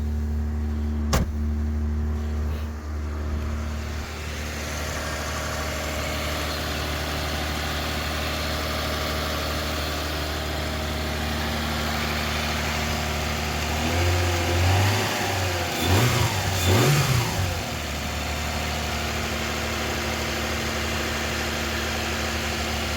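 A car engine idles steadily for a long stretch with a rough, blowing exhaust note from a major exhaust leak, likely at the rear box, briefly revving up before settling again.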